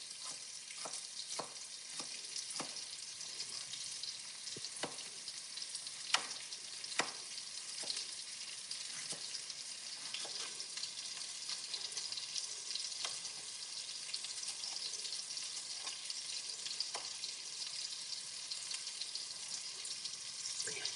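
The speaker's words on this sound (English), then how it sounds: "I'm just going to fry the other fish over there so that we can do everything fast" Fish sizzles steadily in a pan on a kitchen stove, a continuous bright hiss with scattered sharp taps and clicks from nearby cutting.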